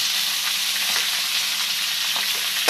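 Ivy gourds (dondakaya) frying in hot oil in a pan, a bright continuous sizzle with a few soft stirring clicks, close and steady, ending on a small clatter.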